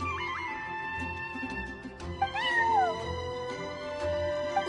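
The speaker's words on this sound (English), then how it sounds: "I'm sorry, that's my neighbor's cat." Charcoal, a cat in the video game Genshin Impact, meows several times over a steady backdrop of game music, the calls clear and close with a rising, wavering tone.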